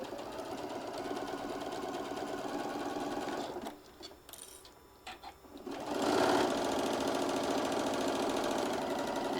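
A sewing machine stitches around the edge of a folded fabric heart case, its steady motor whir running close and continuous, pausing briefly midway before resuming louder.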